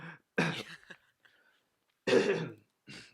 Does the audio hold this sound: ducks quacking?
no